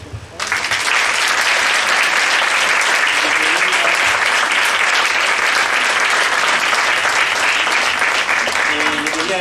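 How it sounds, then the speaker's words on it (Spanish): Audience at a book presentation in a cultural center breaks into loud, sustained applause that starts abruptly and holds steady, dense clapping close by with no break. "agradecer a los chicos, Marcelo, Connie, un aplauso por favor"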